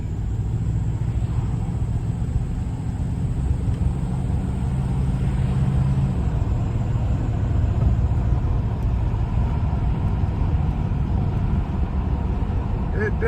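A 1972 Plymouth, stored since 2007 and showing a little front-end shake, drives along with a steady low engine rumble and road noise heard from inside the car, continuous throughout with voices talking over it.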